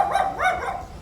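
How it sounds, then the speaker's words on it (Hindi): Two loose dogs bark in a few quick, sharp yelps close by, with a second burst following the first and then fading, no talk over them. "वही एक नहीं 2 कुत्ते खुले हुए हैं।"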